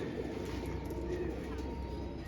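An old female pigeon coos softly and steadily at close range, with low murmuring calls running through the whole short stretch over a faint background hum.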